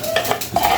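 Spice mix and sesame seeds stirred together in a bowl, a short close scraping and clinking of a utensil against the bowl in two quick strokes, with no talking.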